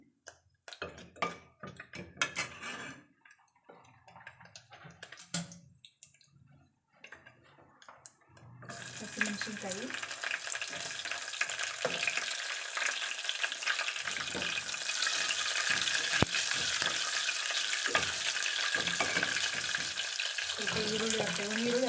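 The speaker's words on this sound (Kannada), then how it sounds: "ಇದಕ್ಕೆ ಒಂದು ಪಲಾವ್ ಎಲೆ ಹಾಕ್ಕೊತಾ ಇದ್ದೀನಿ ಒಂದು ಸ್ವಲ್ಪ ಲವಂಗ ಹಾಕ್ತಾ ಇದ್ದೀನಿ" A bay leaf and a few cloves drop into hot oil in a pan; after some quiet clattering, a loud, steady sizzle starts and continues, with occasional stirring scrapes and no talking.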